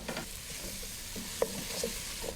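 A spiced mixture with cayenne pepper cooking in a pan, a soft, fairly quiet sizzle broken by a few light stirring clicks and one sharper tap, close, with no one talking.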